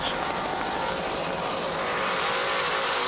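Superboat racing powerboat engines roar during the 1993 Lake of the Ozarks Superboat Grand Prix, a loud, continuous high-pitched drone with a whine that shifts slightly as the boats pass.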